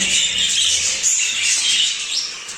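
Budgerigar chicks squawking continuously, a loud close chorus of harsh high-pitched begging calls with no pauses; no talking.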